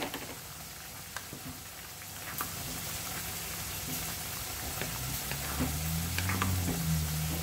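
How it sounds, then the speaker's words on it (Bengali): Cauliflower goes into a sizzling pot for vegetable khichuri: a steady crackling fry that grows slightly louder, with stirring clicks and a low rumbling tone emerging near the end, no voices. "আমি এখন এটার মধ্যে ফুলকপিটা দিয়ে দিব"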